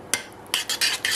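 Grated cheese is stirred into mashed pumpkin: a quick series of close scraping, tapping strokes of a utensil against the bowl, about five in a row.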